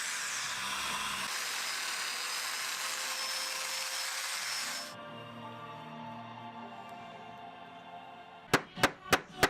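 A Domino joiner cutting joints in wood, a steady close power-tool whine with a shallow grinding bite that runs about five seconds, then spins down, followed by a quick run of four sharp knocks.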